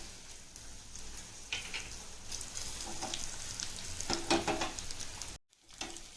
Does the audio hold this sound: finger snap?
no